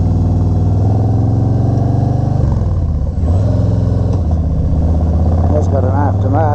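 A 2019 Harley-Davidson Softail Slim with an aftermarket exhaust rumbles loudly and close by. The heavy, steady engine throb dips briefly and then rises into a short rev near the end.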